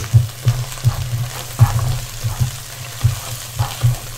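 Sambal of onion and chili sizzling in hot oil in a pan, a continuous crackling fry broken by repeated soft stirring strokes in an irregular rhythm, close and fairly loud, with no talking.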